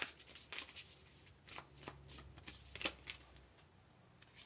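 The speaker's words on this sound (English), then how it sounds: "Let's go ahead and pull another card here." A tarot card is drawn from a deck during a card reading, heard as a run of close, crisp shuffling and riffling card sounds with soft papery flicks, with no talk over it.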